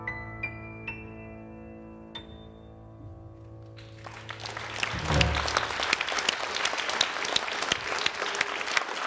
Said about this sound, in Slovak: Potlesk pre Janka Lehockého.